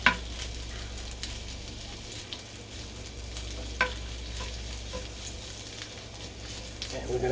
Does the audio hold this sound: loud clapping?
no